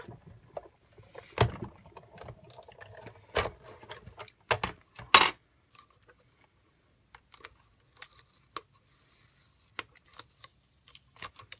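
A die-cutting machine cranked through by hand during paper crafting for Christmas tags and cards, giving a few loud mechanical clunks and clicks in the first half, then scattered quiet clicks and rustles.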